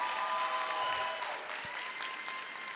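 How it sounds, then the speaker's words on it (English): A crowd applauding steadily at a university convocation, a dense wash of clapping that holds at a fairly even level throughout. "One big round of applause"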